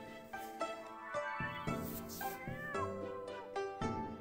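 A cat in an online game meows repeatedly in long, clear, close calls rising and falling, several distinct meows in sequence with no talk.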